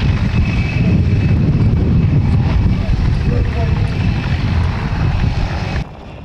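Helicopter flying at an open national helicopter sport championship in Ukraine, a loud steady engine and rotor drone close by that drops abruptly near the end.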